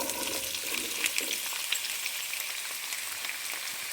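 Onions sizzling and frying in a pan for aloo methi curry, with a steady broadband crackle and hiss holding throughout at moderate level and occasional brighter pops, no voices.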